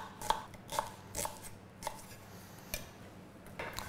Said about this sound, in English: we're just going to roughly chop it down to go into the blender.